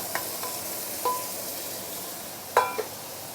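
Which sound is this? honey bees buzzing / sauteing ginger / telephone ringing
sauteing ginger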